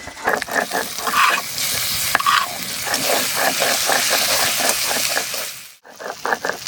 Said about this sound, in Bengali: মশলা প্রায় কষানো হয়ে গেছে